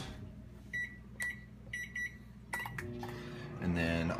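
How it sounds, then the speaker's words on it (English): Microwave oven heating a cup of hot water, with a few quiet, evenly spaced beeps followed by a rising hum as it starts running, and a person speaking nearby. "what I do is I like to put it in the microwave"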